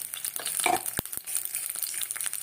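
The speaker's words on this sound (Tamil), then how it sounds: "கொதிக்குது பாருங்கள்" Herbal pirandai oil bubbling in a pan, a close crackling sizzle with scattered pops and a couple of sharp knocks.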